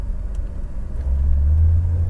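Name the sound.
1970 Mercedes-Benz 300SEL 6.3 accelerating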